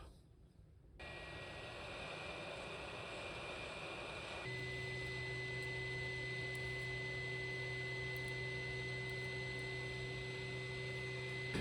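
A steady, airy blowing hum starts after a brief quiet moment, with a constant tonal whine running underneath and growing slightly louder partway through.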